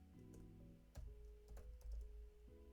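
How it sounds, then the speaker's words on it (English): Quiet keystrokes on a computer keyboard tap out in short, uneven clusters, close and soft, over a low background hum. "If I can type"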